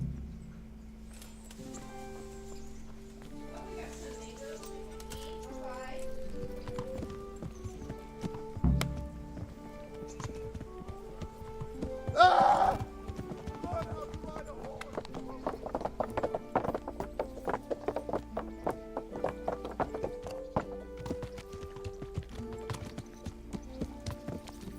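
Horse hooves clip-clopping as a rider sets off in Kingdom Come Deliverance, a steady rhythmic walking gait that speeds up later, with game music and a brief voice in between.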